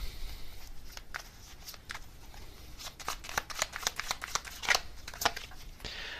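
Tarot cards being shuffled and drawn by hand, with quiet, repeated riffling and papery flicks coming in uneven bursts, close and soft.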